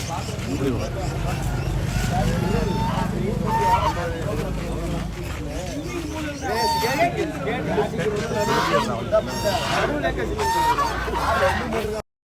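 Ducks at a busy market honk and quack continuously over a noisy background of people chattering, with calls loud and close throughout.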